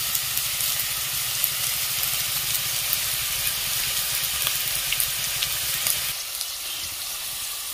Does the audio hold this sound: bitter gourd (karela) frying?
yes